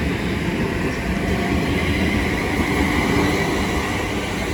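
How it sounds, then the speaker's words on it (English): A London Euston-bound service train rumbles steadily through Watford Junction on the West Coast Main Line, a loud, continuous roar of wheels and carriages without pause. "Here we have a London Euston Railway service bound for London Euston."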